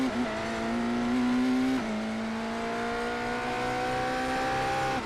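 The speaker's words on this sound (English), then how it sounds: "It still honestly sounds like there's something loose in that engine." A race car in a racing video game drones at high revs with a steady engine whine that shifts pitch once, loud and continuous with no talking.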